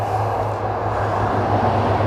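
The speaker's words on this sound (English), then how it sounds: "There's another train." A train passes near a riverside footpath by the River Tone in Somerset, a steady, fairly loud rumble that holds evenly for about two seconds with no voices.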